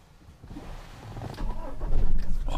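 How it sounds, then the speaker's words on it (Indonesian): A Toyota Hilux 4WD double cab diesel engine cranking and catching, building into a rough, low rumbling idle up close. "suara diesel langsung terdengar guys"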